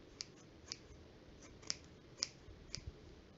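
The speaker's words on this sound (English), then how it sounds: "So now I'm gonna start trimming away the other pieces just to get it even." Scissors trimming a yarn pom-pom for a baby shower elephant centerpiece, about five quiet crisp snips spaced roughly half a second apart over faint background hiss.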